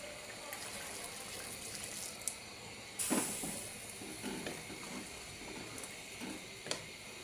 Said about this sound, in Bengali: এখন দিয়ে দিলাম গরম পানি